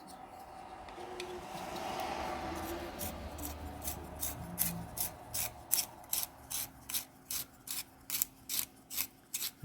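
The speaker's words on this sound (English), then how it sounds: "I'll use a hand sharpener so I can get a whiff of that cedar" A cedar pencil being turned in a hand sharpener, a soft scraping that settles into a regular series of about a dozen crisp rasping strokes, close and fairly quiet, with no speech.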